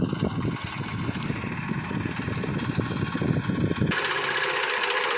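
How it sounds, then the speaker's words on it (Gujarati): A tractor engine runs at a threshing floor, set up to drive a thresher, giving a dense, steady chugging rumble with rapid knocking pulses throughout. Its tone shifts and thins abruptly near the end. "તો ટ્રેક્ટર આવી ગયું છે"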